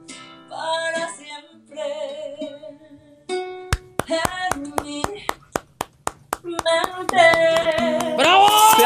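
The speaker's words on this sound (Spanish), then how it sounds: "¡Se aplaude!" Sung music gives way to a run of about a dozen sharp, evenly spaced hand claps, then fuller, louder applause and cheering as a song ends, with voices over the top.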